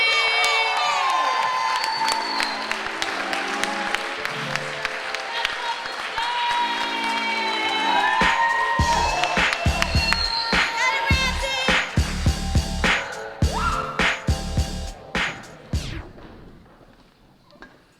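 A poetry slam audience at Fremont Abbey claps, cheers and whoops as the next poet comes to the stage. The loud crowd noise swells with excited shouts and sustained applause, under talk from the host, then tapers off near the end.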